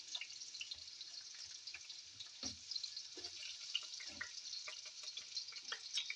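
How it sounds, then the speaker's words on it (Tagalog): Onions lightly sautéing in a non-stick wok give a soft, continuous hiss with scattered faint crackles and small clinks, quiet and close, with no speech. "No need to brown this one, just slightly saute these onions."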